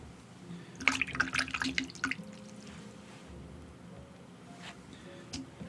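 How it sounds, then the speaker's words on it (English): Water drips and taps lightly onto a watercolour painting in progress, a cluster of small close wet plinks followed by quieter scattered drops against a soft room hiss. "Just drop a few bits of water in."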